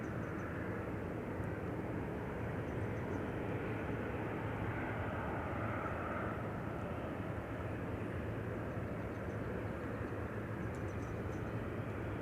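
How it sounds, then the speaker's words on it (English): An Air France airliner taxis toward the runway threshold at Amsterdam Schiphol, a steady low engine rumble and whine heard faintly at a distance, unchanging and without talk. "Air France Flight 1241 on its way to the threshold and then to Paris"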